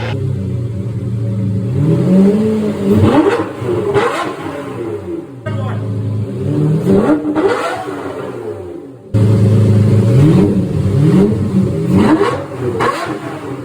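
A Lamborghini Murcielago engine revs repeatedly through a loud stainless steel exhaust, the pitch climbing and falling in three close, aggressive bursts with a brief pause between them.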